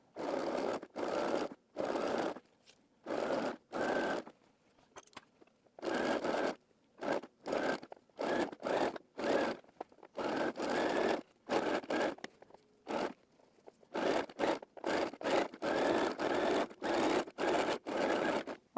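A home sewing machine stitches elastic around the neckline of a wrap dress in many short bursts, each a brief whirring run of stitches, stopping and starting in an uneven rhythm, close and fairly quiet.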